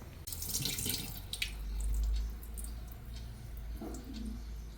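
Water splashes and trickles as salted pickled vegetables are rinsed by hand in a basin, with soft sloshing and dripping at moderate volume, fading slightly toward the end.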